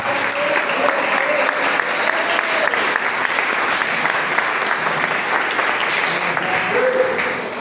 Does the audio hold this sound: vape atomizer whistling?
no